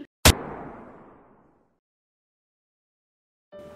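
A single sharp gunshot captured on a recorded emergency phone call, a loud bang that decays over about a second into silence.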